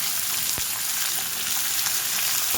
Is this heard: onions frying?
yes